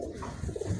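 A Sialkoti pigeon gives a brief, low, throaty coo, close and alone with no other sounds over it.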